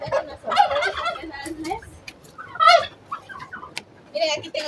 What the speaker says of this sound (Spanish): Miren, aquí tengo todas mis gallinitas muy bien.